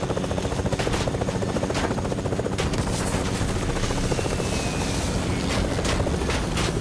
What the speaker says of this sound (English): Oh, now I'm getting shot at